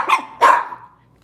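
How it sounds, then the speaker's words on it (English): A big guard dog gives two loud, close barks in quick succession, each followed by a short fading tail, and then quiet. "He's a big guard dog."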